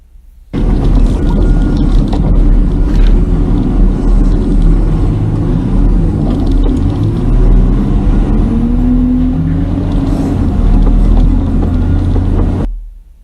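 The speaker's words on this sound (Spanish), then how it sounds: "los tramos en donde solo se escucha el motor cuando un tanquero está operando" A tanker truck's engine runs steadily and loudly up close, a heavy, constant low rumble with slight shifts in pitch, free of speech.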